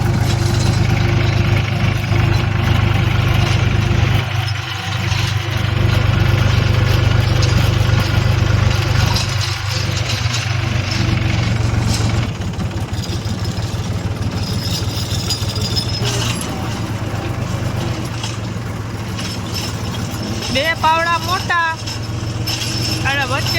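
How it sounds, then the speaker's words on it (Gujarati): A tractor engine runs steadily in a field, a continuous low throbbing hum heard close by throughout, with people talking over it and a brief high whine near the end. "હવે ટ્રેક્ટરમાં બેસી ગયા ભાઈ"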